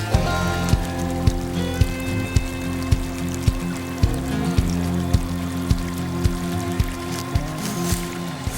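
Water poured out at a creek-side trap set while coon trapping, a steady trickle with faint drips close by, alone without talk.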